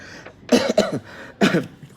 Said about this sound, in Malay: izinkan pakcik batuk jap